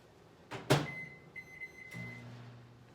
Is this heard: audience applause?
no